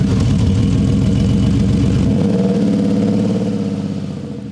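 Loud, throaty rumble of a Porsche 911 Carrera 4's 3.6-litre flat-six boxer engine on a track, with a pulsing burble that shifts pitch midway, then gradually fades as the car moves away.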